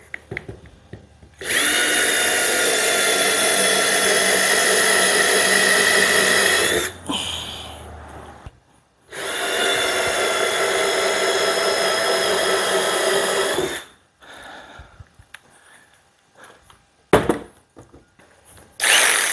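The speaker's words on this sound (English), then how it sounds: "The best way to do that is to drill holes in the corner" A power drill boring holes into the corners of wood in two long, loud, steady runs, each lasting several seconds, with short pauses and handling clatter between.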